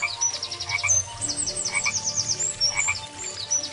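A cartoon frog croaks in a steady run of quick, bright calls that carry on throughout, fairly soft, with no voices.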